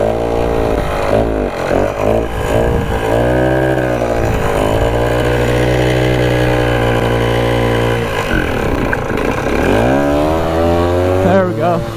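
An old Rokon 2x2 motorcycle engine runs loudly up close, its pitch surging and sagging unevenly as it sputters from fuel starvation, then revving back up near the end, with a voice partly heard over the noise.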